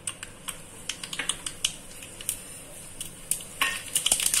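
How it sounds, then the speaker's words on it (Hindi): Mustard seeds crackle in a pan of hot oil, giving a quick, irregular string of sharp pops and ticks that grows busier toward the end, close by, with no talking. "ऑयल के गर्म होते ही राई डाल देंगे"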